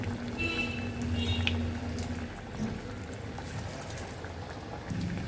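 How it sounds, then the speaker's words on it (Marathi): Corn cutlets lowered into hot oil: a steady bubbling sizzle with crackling spits carries through the whole stretch, a faint hum running underneath. "आता तेलामध्ये आपण इथे सोडून घेऊया कटलेट"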